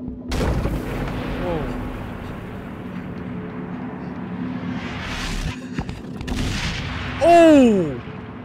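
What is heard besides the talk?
bomb explosions in the video game Inside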